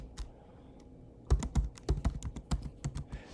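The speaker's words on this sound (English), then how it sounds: "I'm going to type in Jamboard" Someone types on a computer keyboard, starting with a few isolated taps, then a quick burst of crisp, close keystrokes in an uneven rhythm against a quiet room.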